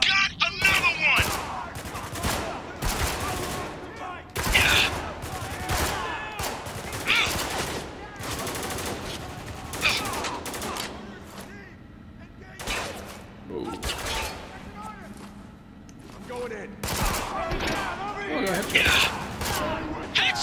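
Repeated bursts of automatic gunfire in the video game Spec Ops: The Line, loud irregular volleys with short gaps between them, mixed with game voices and a player talking.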